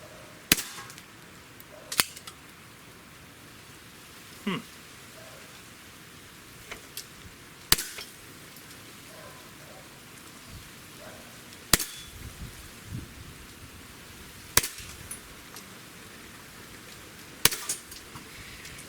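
A Sig Sauer We the People 1911 pistol fires sharp, fairly faint shots spaced a few seconds apart at a 10-meter range, each crack standing alone over quiet background hiss.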